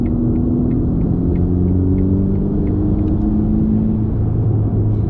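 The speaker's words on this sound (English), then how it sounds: "I can actually go under an overpass and actually hear the exhaust in a car I'm driving." A 2021 Ferrari Roma's exhaust note drones steadily from inside the cabin while driving under an overpass, a low continuous rumble with a slowly rising engine tone and no talk.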